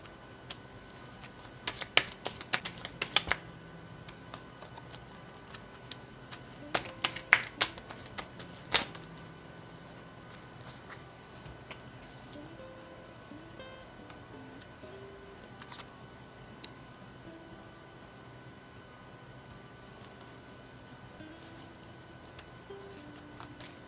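Tarot cards being handled and shuffled, with clustered bursts of crisp riffling and snapping early on, then quieter occasional taps and card handling over a soft, faint background.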